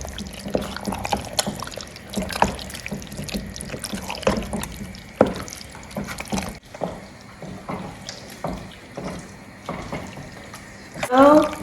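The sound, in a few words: stirring kontomire egg stew after adding water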